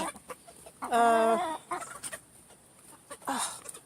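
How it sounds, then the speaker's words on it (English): Ameraucana chickens clucking close by, one loud drawn-out cluck and a second shorter burst a couple of seconds later, with soft scratching and rustling between. "we have 3 of the Americanas. That's them right here."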